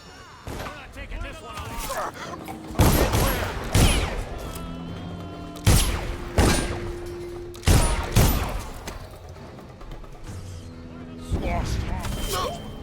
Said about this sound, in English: you can basically turn it into a grenade launcher with the explosive bullet blueprint